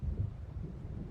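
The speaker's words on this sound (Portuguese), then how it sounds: "E uma tempestade." A steady low rumble of thunder and storm wind from a thunderstorm in the video game Alan Wake Remastered, continuous and fairly loud over about a second, with no voices.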